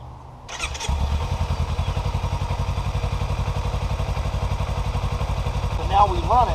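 A Kawasaki Ninja 300 motorcycle engine cranks and catches, then settles into a steady, rapid idle with a faint squeal near the end.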